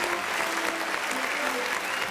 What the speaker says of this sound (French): On va les applaudir s'il vous plaît, on va les applaudir.